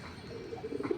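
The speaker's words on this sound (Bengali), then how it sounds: "এখানে কবুতর কিছু আছে" Pigeons coo softly at a feeding spot, one low, throaty coo swelling briefly near the end over faint background noise.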